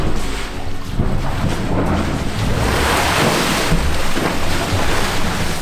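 Ocean surf rolling in at a beach, a steady loud wash of breaking waves with wind buffeting the microphone throughout, no voices.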